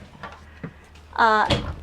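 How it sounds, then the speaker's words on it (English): A sliding barn-style door in a 2021 Grand Design Reflection 240RL fifth wheel trailer rolls along its track with a short squeaky glide and a soft knock, close by, after a few quieter handling taps. "You get a another slider barn door style in here"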